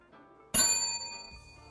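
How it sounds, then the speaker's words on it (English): A single bell struck in an office lobby rings out loud and near with a sharp onset, then its bright metallic tone decays slowly and evenly, with faint room noise around it. "there's a bell, so I'm going to ring it"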